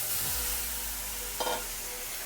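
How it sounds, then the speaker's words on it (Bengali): Pumpkin pieces frying in hot oil with turmeric powder for a Bengali vegetable dish, giving a steady close sizzle with a brief sharper burst of crackling partway through, no talk. "কুমড়োটা আগে একটু ভেজে নেব।"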